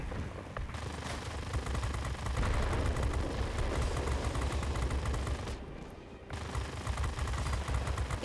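Aircraft machine guns on an XP-72 fighter in the World of Warplanes video game fire sustained, dense bursts that rattle on at a moderate level. The fire briefly thins and drops out around the sixth second, then resumes.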